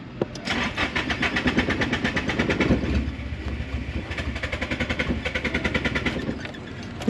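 Nissan S13 engine sputtering and stumbling as if starved of fuel, a steady uneven rhythmic chugging running throughout, fairly loud and close with no talk.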